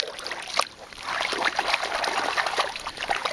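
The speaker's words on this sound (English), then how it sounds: "break up this material gradually, fluidize the sediment, and gradually work any gold that's in there down to the bottom of the pan" Water swishes and trickles in a gold pan as sediment is fluidized and worked down, a close, steady wet sloshing with small splashes and one sharp slap early on.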